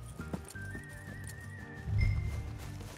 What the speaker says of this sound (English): Or did I just get on my horse?